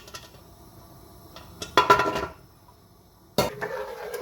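Peas and potatoes go into a cooking pan for peas rice (mater chawal), making a few metallic clinks and scraping bursts against a quiet kitchen background.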